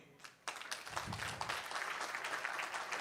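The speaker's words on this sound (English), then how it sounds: "let's hear your applause for the day." An audience at an economic forum breaks into applause after a short quiet start, steady dense clapping that holds loud and even to the end.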